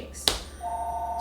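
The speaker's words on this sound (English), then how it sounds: "the phone rang, what can I say?" A telephone rings in a home kitchen, a sharp click followed by a steady electronic tone that starts partway through and holds to the end.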